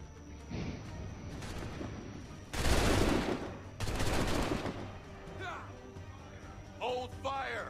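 Musket volleys in Assassin's Creed III: several loud bursts of massed gunfire crackle and boom in close succession, with shouted voices over the battle.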